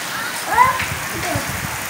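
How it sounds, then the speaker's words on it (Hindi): Steady heavy rain hisses close by in a dense, continuous wash, with faint voices mixed underneath. "ओ बारिश फिर बहुत तेज हो गई, बहुत तेज हो गई बारिश"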